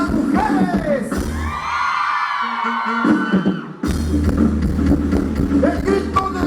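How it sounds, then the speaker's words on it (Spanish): Women at a wedding celebration in San Marcos Oacatzingo, Guerrero, shout and whoop loudly in a dense, continuous crowd noise, with music and voices underneath and a sharp renewed burst of yelling partway through. "¡Ya el grito de las mujeres!"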